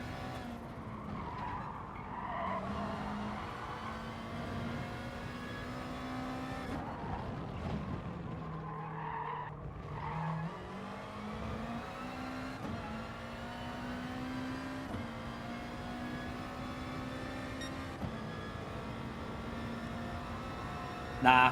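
A GR.3 race car laps Laguna Seca in Gran Turismo Sport, its engine note rising and falling through gear changes, with tires squealing and skidding through the corners. The engine stays fairly quiet and steady throughout.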